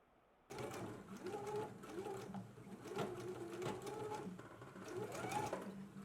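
A sewing machine stitches through all thicknesses of a sleeve lining seam, starting abruptly and then running in a steady, close, rapid mechanical whir for several seconds without speech.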